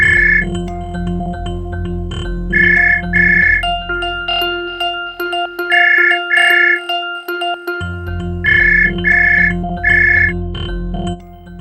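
A home landline telephone ringing loudly in repeated paired electronic trills, pausing briefly between rings, with a steady background hum.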